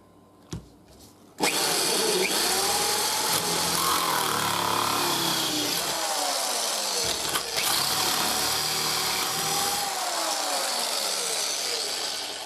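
A drill with a large-toothed cutter bores through coins for a stacked knife handle, a loud continuous whining grind that starts abruptly after a couple of brief knocks and carries on with rising and falling tonal sweeps.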